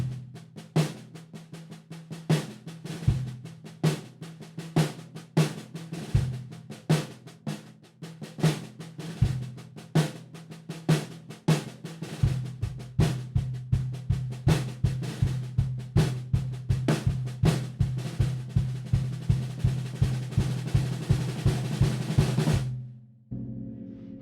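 Drum kit in halftime feel with snare accents on beat three and kick, building into a dense rolling snare pattern of fast even hits over cymbals, then stopping suddenly; loud and close with no talking.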